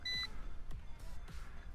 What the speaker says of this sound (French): Donc il bip puisqu'il veut que le throttle soit en bas, tout simplement.